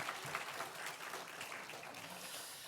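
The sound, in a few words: congregation applause in church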